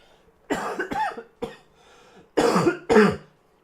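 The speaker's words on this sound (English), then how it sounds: "it smells like blood every time I cough" Several harsh coughs close to the microphone, a few in a quick burst, then a pause and two more strong coughs.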